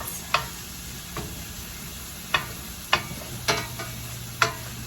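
Onions cooking in a pan toward translucent, a soft steady sizzle broken by several sharp utensil knocks and scrapes at irregular intervals, close and without talk.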